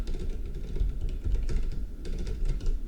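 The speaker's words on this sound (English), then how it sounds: "I can type occasionally." Fingers type on a computer keyboard during C++ game programming. Rapid clicky keystrokes come in quick bursts up close, with short pauses between runs and no talking.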